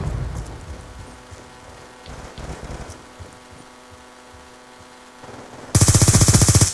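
Gunfire in a video game: scattered shots over a low hum, then a loud, rapid, evenly spaced automatic burst at close range in the final second.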